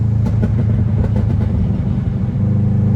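Burble-tuned engine letting out a run of crackling exhaust pops as the throttle is tapped, several sharp bursts over a steady low engine drone, close and loud.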